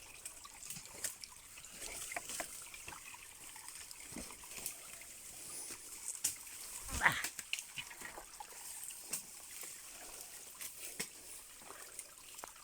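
A spring source of water trickles outdoors as a faint, steady dribble and splash, mixed with soft ambient noise and brief rustles.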